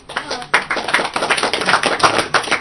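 Several people clapping in quick uneven bursts at a live speedrun event, sharp close claps overlapping briefly rather than a long sustained applause.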